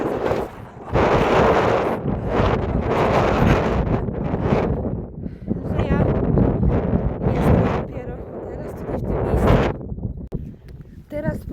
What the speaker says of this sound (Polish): Nie no, wieje niesamowicie dzisiaj